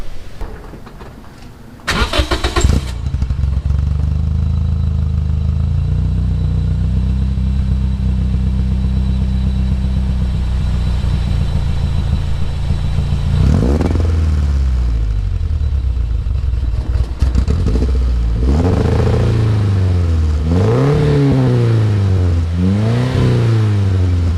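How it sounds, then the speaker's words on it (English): A 2006 Scion xB engine cranks and catches, settles into a loud steady idle, then revs up and down repeatedly, close by. "Let's go ahead and crank it up."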